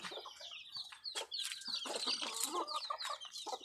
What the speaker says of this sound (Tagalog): Manok na pula.